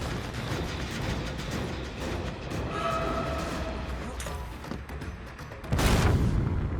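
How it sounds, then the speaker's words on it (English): A flashbang grenade detonates in the horror video game Dead by Daylight, a loud broadband burst near the end that cuts through steady rumbling game ambience. "Oh, flashbang."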